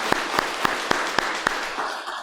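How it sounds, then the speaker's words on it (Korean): A church congregation applauding during a Sunday worship service, sounding as a handful of distinct sharp claps spaced evenly over a steady roomy background, fairly faint. "우리 박수로 격려하겠습니다."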